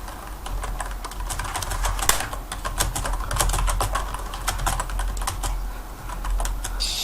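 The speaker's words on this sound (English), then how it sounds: "Typing intensifies." Rapid, steady typing on a computer keyboard, a close stream of crisp clicking keystrokes with no voices.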